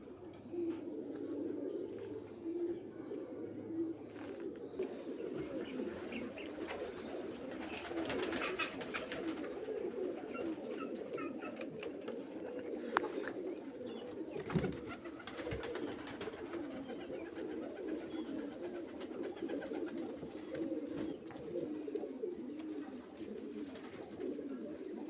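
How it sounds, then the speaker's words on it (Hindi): Lal Badshah pigeons coo softly and continuously in a low, murmuring rhythm, with faint background noise and no voices. "माशाल्लाह लाल बादशाह कबूतर है, बड़ा खानदानी।"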